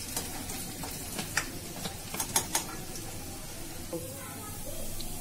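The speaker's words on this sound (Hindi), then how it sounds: "तेल गरम होने के बाद मैं सबसे पहले इसमें लहसुन की कली डालूंगी।" Garlic cloves frying in hot oil give a steady, close crackling sizzle with scattered pops and ticks, while soft background noise runs underneath.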